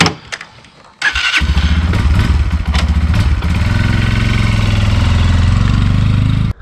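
An Amazon X-Pro motorcycle, a KPM 200 or Hawk 250 DLX, is started after a few faint clicks, then catches with a sudden loud roar and settles into a steady, close, throbbing idle and rev.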